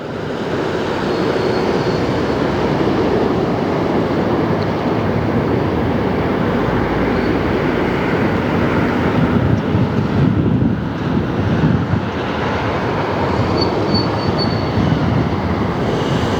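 A Delta jet airliner roars past at LAX airport, a loud, sustained broadband rush of engine noise close by and buffeted by wind on the microphone, steady for the whole stretch.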